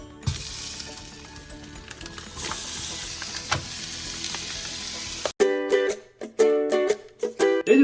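Lardons fry in a pan for tartiflette, giving a loud, steady hissing sizzle with occasional stirring clicks for about five seconds before music takes over.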